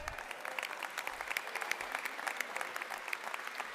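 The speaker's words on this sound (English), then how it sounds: "You got to applaud for that, man." Steady applause from a crowd at Nevada Governor Joe Lombardo's re-election campaign speech, a dense, continuous patter of many hands clapping at moderate distance for nearly four seconds, with no voices over it.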